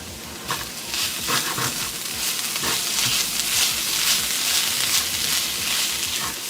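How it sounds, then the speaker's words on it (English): Impossible plant-based ground meat, seasoned with pimento seasoning, sizzles steadily in a hot pan, a continuous bright crackle with occasional stirring scrapes and pops. "You're just gonna saute it."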